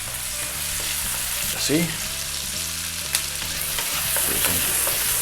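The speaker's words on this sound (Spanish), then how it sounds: "En la misma sartén que hemos hecho la carne, procedemos a poner la cebolla" Onion and ají amarillo fry over high heat in the same pan used for the meat, giving a loud, steady sizzle with occasional stirring scrapes, and one brief spoken word over it.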